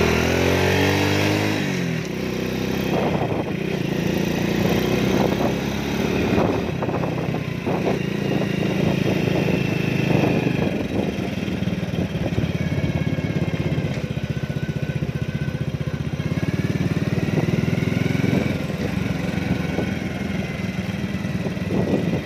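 Motorcycle ridden slowly through a mountain valley, a loud steady engine drone with low rumble and rattling clatter throughout, close to the rider, with slight changes in throttle.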